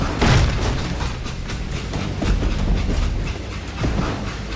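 A train rolls along its rails in the Call of Juarez: Gunslinger video game, with a steady loud rumble and rhythmic clacking, plus thumps and swells in loudness, with no talking.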